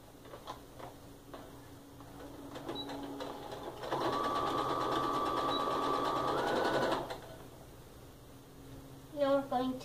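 A sewing machine stitches across black quilt pieces, starting slowly then running in a steady fast whir for about three seconds before stopping, with quiet handling and a brief voice near the end.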